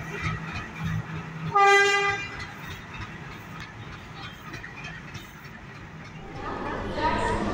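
A passenger train's horn sounds briefly mid-clip as it arrives with new LHB coaches, over steady rumbling rail and station noise, with people talking in the background throughout.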